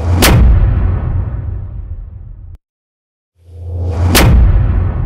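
Cinematic whoosh-hit sound effect with final limiting and processing: two loud, heavy booming impacts separated by a short silence, each with a sharp crack and a long, deep rumbling tail.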